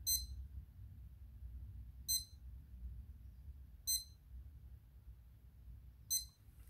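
A workout timer beeps four times at roughly two-second intervals, short bright chirps over a low steady hum, faint and with no talking.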